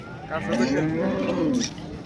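A cow with cancer at the Modnimb cattle market moos once, a long low drawn-out call that swells and fades, close by, with faint background murmur.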